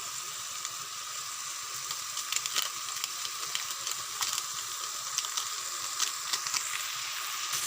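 Masala cooked with sour yogurt and garam masala powder sizzles steadily in hot oil, a continuous bright frying hiss with small crackles and pops throughout.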